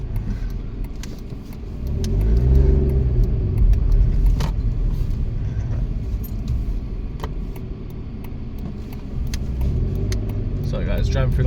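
Car driving through London streets on a Monday night, steady low engine rumble and road noise with a brief rise as it turns a corner, under someone talking.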